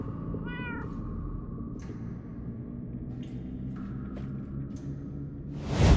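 Cats meow in Minecraft: Story Mode. A single short, near meow comes early over a steady low rumble, then faint clicks and drips follow, and a louder burst of noise closes the stretch.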